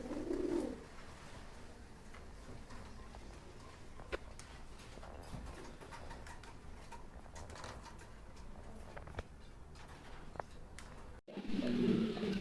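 Indonesian mundi pigeons coo softly in a loft, with low, throaty coos near the start and again at the end, over a steady background hum and scattered faint clicks and bumps.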